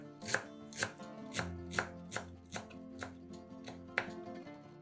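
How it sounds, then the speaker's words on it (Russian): A kitchen knife chops a bunch of fresh parsley and dill on a board, about a dozen crisp, close, fairly quiet strokes in a steady rhythm, with no talking. "Пучок зелени нарезаем ножом."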